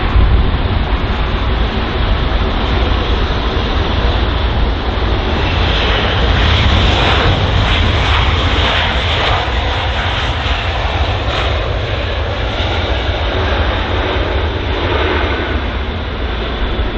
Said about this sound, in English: So the Air Canada Boeing 777 cutting the queue.